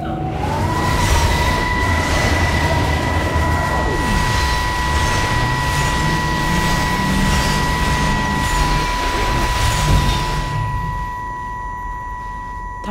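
A train passes through a station in the video game Everybody's Gone To The Rapture: a steady, loud mechanical rumble with sustained tonal whines that fades slightly near the end, with no voices.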